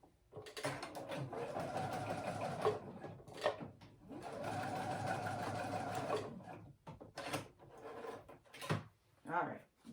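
A sewing machine bastes along the raw edge of a jacket seam in two steady bursts of motor hum. A voice talks quietly between runs, alongside fabric rustling and handling.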